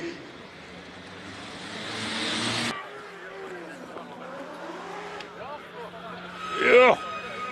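Diesel Fiat Punto Grande race car at a hill climb, engine droning and fading with distance while a commentator talks over it, then a brief louder burst near the end.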